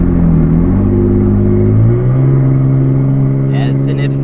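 A Toyota Tacoma V6 fitted with a straight-pipe exhaust, heard as a loud, steady engine drone whose pitch shifts and climbs partway through as it revs, close by and dominant throughout.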